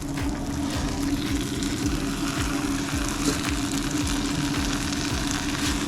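Breaded chicken fries in a pan with a dense, steady sizzle and crackle of hot oil, heard close and continuous without any speech.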